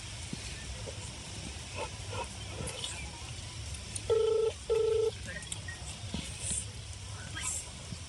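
Two short bursts of telephone keypad dialing tones sound close and clear in quick succession, set against a steady background murmur with faint animal noises and voices nearby.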